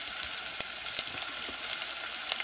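Onions frying in a pan, a bright steady hissing sizzle up close with a few sharp pops and crackles scattered through, heard alone with no talk.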